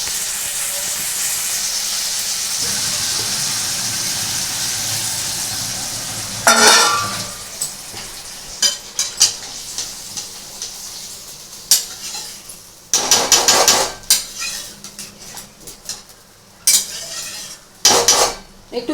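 Aloo paneer curry in a pan sizzles and hisses loudly at first, then water is poured in and the hiss drops to a softer simmer, broken by repeated bursts of spoon scraping and stirring against the metal.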